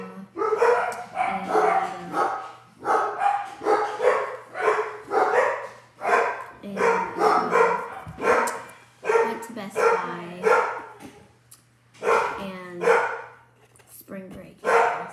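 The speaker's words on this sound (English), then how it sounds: "The dogs are barking." Several dogs bark in repeated bursts of yaps and woofs, fairly close by, mixed in with people talking throughout.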